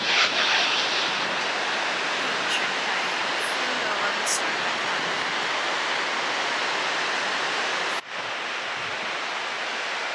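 A waterfall in Iceland roars as a loud, steady wash of broadband noise, with wind buffeting the microphone. A brief dip near the end is followed by the same continuous rush.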